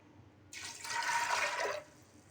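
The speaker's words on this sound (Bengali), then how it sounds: "এখন আমি পরিমাণ মতো পানি দিয়ে দেব" Water pours in a steady splashing rush for over a second into a pressure cooker holding soaked lentils, starting abruptly and cutting off, close and alone.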